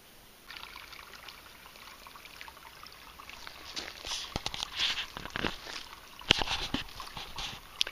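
Low water at the first crossing of Workman Creek in Arizona trickles faintly over rocks, a soft, uneven burble that grows a little busier toward the end, with scattered steps nearby.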